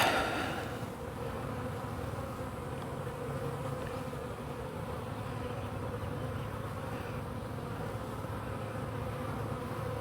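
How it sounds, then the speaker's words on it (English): Honey bees swarm in the air around a yard of nucleus hives, a steady dense buzz of many wings holding close and unbroken throughout. "the bees are up and flying already"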